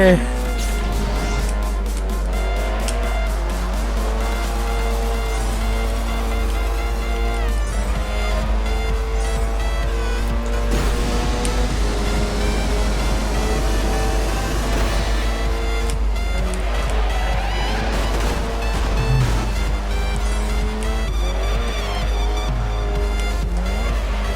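A car races through a track in the Ultimate Race video game, its engine droning steadily with occasional tire noise and crash sounds, while someone talks over it throughout.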